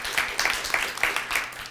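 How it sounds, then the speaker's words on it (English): An audience at a live body language show applauds with a steady wash of clapping, moderately loud and unbroken throughout the short stretch. "Big round of applause for Marla's question"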